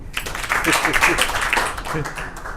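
Audience claps for a selected bank PO candidate at a coaching institute gathering in Prayagraj, a brief, moderately loud round of applause in an indoor room, with voices murmuring underneath.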